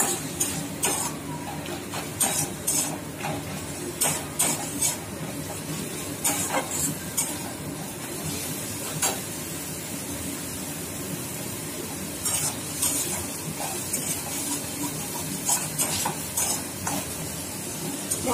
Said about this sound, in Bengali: মশলাটা যতক্ষণ না কষা হচ্ছে ততক্ষণ আমি একটু নাড়াচাড়া করবো কাঁচা গন্ধটা যতক্ষণ না কাটছে